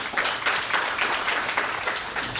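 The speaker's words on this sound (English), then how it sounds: "If you can give her a round of applause." Audience applause at a public finance conference, steady dense clapping from a crowd throughout, moderately loud with no talk over it.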